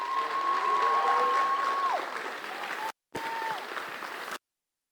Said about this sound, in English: Let's start off by giving them a hand.